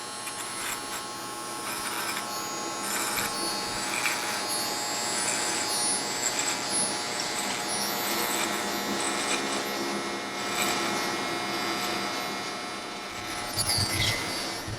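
A hair clipper buzzes continuously close by as hair is shaved away during a fade haircut, a steady bright whine with slight shifts as the blade moves; no one speaks.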